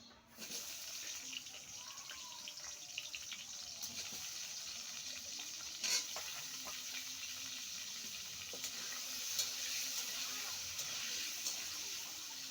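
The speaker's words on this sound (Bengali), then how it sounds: "এই তেলেই আমি আলুটা ভেজে নেব" Potatoes fry in oil with a soft, steady sizzle and crackle, fairly quiet and continuous, with a few light clinks along the way.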